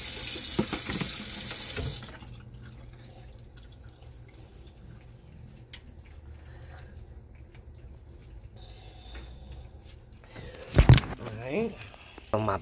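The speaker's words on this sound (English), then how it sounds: "I wash my hands before I start doing anything" Water from a kitchen faucet runs loudly at first, then cuts to a quiet room with faint background voices, before a brief splashy burst of water returns near the end.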